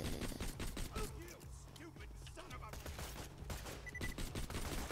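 Rapid bandit weapon gunfire in Borderlands 2, a dense, continuous rattle of close, loud automatic shots running throughout with brief gaps, while a player talks over it.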